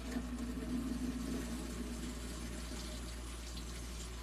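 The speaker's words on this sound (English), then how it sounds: "Let me get this going in some water so my brush won't get all gunky." Tap water runs steadily to rinse a paintbrush, making a soft, continuous hiss and splash at moderate distance with no talking over it.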